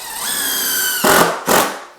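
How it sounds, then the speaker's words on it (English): A cordless drill drives surface screws through a laminate or vinyl subfloor into the floor joists: a steady motor whine, then two short, harsh bursts as the screws bite and tighten. "line up on the joist line and just drive some surface screws down in there and tighten it all up"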